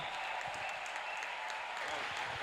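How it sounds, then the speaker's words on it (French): A church congregation claps continuously at a healing service, a dense patter of many hands at moderate distance, with faint voices mixed underneath. "Let us clap our Lord."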